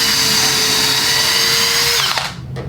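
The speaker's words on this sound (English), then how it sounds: "We're just going to be drilling some holes and putting in some 3-inch deck screws." A power drill driving 3-inch deck screws into wood whines at a steady pitch for about two seconds, then winds down and stops, loud and close.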